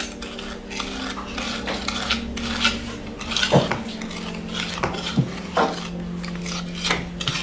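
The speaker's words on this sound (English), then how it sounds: "we're going to start whisking with our egg and our butter and our sugar" Egg, butter and sugar are whisked in a bowl, giving a steady run of scraping, rasping strokes with sharp metallic clinks of the whisk against the sides.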